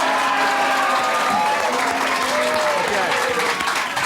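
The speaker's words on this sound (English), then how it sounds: "Give him a nice round of applause out there." Studio audience applauding a guest at a 1984 television show, steady dense clapping filling the room throughout with voices and cheers mixed in.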